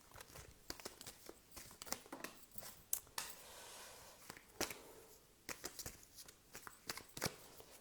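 Tarot cards are shuffled by hand in a quiet room, giving soft irregular riffles and flicks with brief sharper snaps, close and fairly faint, with no talking.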